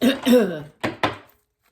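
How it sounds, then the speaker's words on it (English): A person clears their throat twice in quick succession, close and fairly loud, followed by two short sharp bursts, then silence. "Excuse me for clearing my throat."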